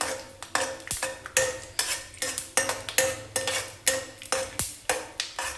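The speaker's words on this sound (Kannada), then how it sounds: "ಈ ಕಡಲೆ ಬೀಜನ ಎಣ್ಣೆಯಲ್ಲಿ ಫ್ರೈ ಮಾಡಿ ತಕ್ಕೊಳ್ಳೋಣ." Peanuts fry in hot oil in a pan while a metal spoon stirs them in quick, regular scraping strokes, a steady clinking rhythm over a soft sizzle, close up with no voices.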